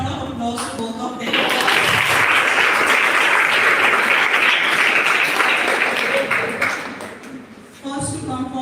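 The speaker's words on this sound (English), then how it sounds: "So big round of applause to both of them." Audience at a B.Ed college event breaking into applause, full clapping swelling in after a moment of talk and holding steady, then trailing off as voices return.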